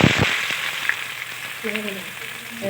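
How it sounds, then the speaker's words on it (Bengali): Chopped onion frying in oil with sugar, cardamom, cloves, cinnamon and dried red chilli for a cock chicken curry, giving a brief close sizzle with a scrape of stirring at the start and a faint tonal hum. "পেঁয়াজগুলোকে নেড়ে সেড়ে লাল লাল করে ভেজে নেব"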